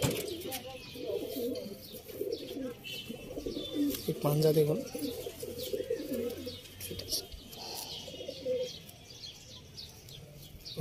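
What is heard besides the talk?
pigeon cooing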